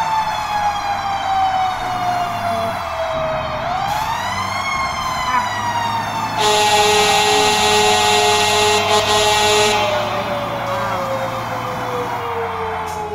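Fire truck siren wailing loudly and steadily on a highway, its pitch gliding and sweeping as the engine passes nearby, heard from inside a car moving at about 70 mph, with faint talk underneath.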